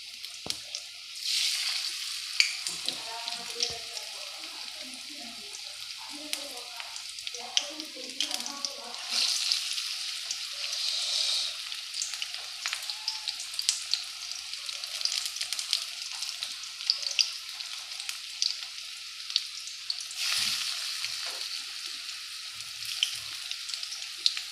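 Jute leaf and curry leaf fritters sizzle steadily in hot oil in a wok, a dense crackling hiss throughout with occasional louder spatters and some stirring, close and even in level.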